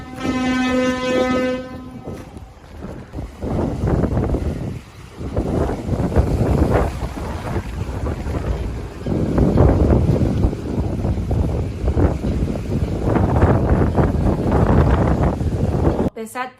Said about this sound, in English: The wind was so strong that we were not able to walk to the closest dock.